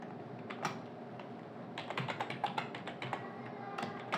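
Someone types a folder name on a computer keyboard, scattered key taps at first, then a quicker close run of clicks near the end, heard alone with no talking.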